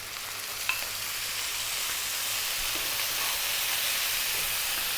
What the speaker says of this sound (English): we really want to cook these tomatoes down